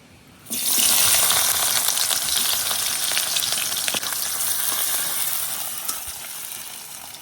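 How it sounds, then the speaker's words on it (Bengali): A sudden loud sizzle as onion and garlic hit hot oil, crackling steadily and easing slightly over the following seconds. "পেঁয়াজ আর রসুনটারে হালকা একটু ভাজতে নিলাম।"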